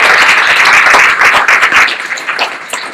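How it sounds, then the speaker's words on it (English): An audience applauds after a talk, a short burst of many hands clapping that stays steady, then thins out and fades near the end. "let's first give Bob a big round of applause"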